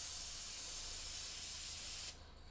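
Airbrush spray gun spraying plain water: a steady, bright hiss held close for about two seconds that cuts off abruptly, leaving quiet room tone.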